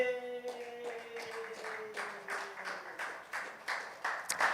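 An audience at a community meeting claps, a fairly faint burst of applause with a rhythmic, pulsing quality, following a brief sustained vocal tone at the start.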